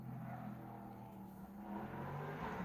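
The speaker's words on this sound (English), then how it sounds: "It's somebody running the car around in the back." A car engine idling and revving nearby, a low, continuous rumble that rises slightly in pitch toward the end, faint and steady with no talking.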